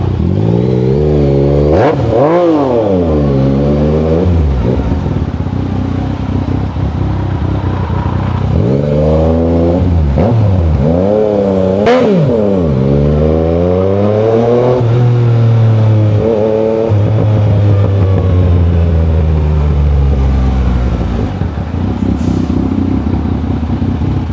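Yamaha Niken 900 three-wheeled motorcycle engine revving loud and close, repeated surging climbs and drops in pitch as it accelerates and shifts through gears, continuous with no talk.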